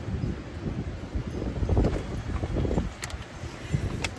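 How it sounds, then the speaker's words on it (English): Wind buffets the microphone in steady rumbling gusts outdoors while planting a GreenStalk vertical planter, a loud low roar with faint rustling on top. "it is very windy"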